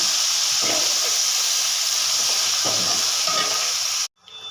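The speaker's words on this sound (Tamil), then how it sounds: "கத்திரிக்காய், தக்காளி, பச்சை மிளகா, வெங்காயம் போட்டு வதக்கணும்." Brinjal, tomato, green chili and onion sauté in a hot pan with a loud, steady sizzle and occasional stirring scrapes, close by, for about four seconds before cutting off abruptly.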